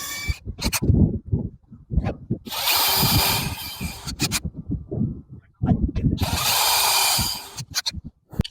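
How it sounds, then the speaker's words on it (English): A power drill whirs in two bursts of a second or two each, separated by clattering handling noises and light knocks, close by. "we can go ahead and pre-drill for our screws"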